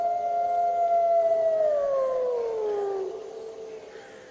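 A single long, mournful wolf howl drifts through frozen woods, holding a steady tone before sliding slowly downward and fading, clear and fairly close over a quiet background.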